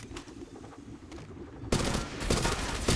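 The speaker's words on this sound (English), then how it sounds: "Under fire here." Bursts of gunfire in the mobile shooter game Apex Legends Mobile, a few sharp shots early, then a loud dense burst of rapid fire in the second half, fairly close.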